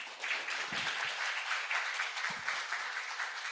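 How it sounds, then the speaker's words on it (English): Audience applause at a public lecture and book launch, a steady broadband patter of many hands, moderately distant and even, with a couple of low thumps partway through. "Can we please give a big round of applause"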